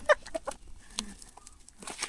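A fighting chicken received as a gift gives a few short, sparse clucks nearby, fairly quiet, with no one talking.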